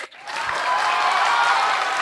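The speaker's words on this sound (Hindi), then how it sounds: "हालांकि तालियां तो कम बजी हैं।" Audience applause at a literary festival interview session in India, a steady sustained clapping from a crowd that swells quickly and holds at a moderate level for about two seconds, with no talking over it.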